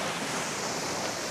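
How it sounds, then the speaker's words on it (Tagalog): Ocean waves at a Batangas beach resort make a steady, broad wash of surf, mixed with wind buffeting the microphone, continuous and fairly loud with no voices. "Ay, yung karagatan."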